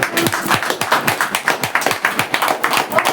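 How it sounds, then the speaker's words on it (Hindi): A crowd, mostly women, claps at a large Women's Day celebration for DXN, a loud, fast, continuous burst of many hands with rhythmic sharp peaks throughout. "वहीं पे अगर डीएक्सएन 25वीं सालगिरह मना रही है तो डीएक्सएन के लिए तालियां।"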